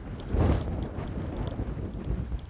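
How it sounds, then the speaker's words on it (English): Steady wind rushing across an open golf course, with a stronger gust early on and a low rumbling buffet continuing throughout. "I very much doubt it in these windy conditions"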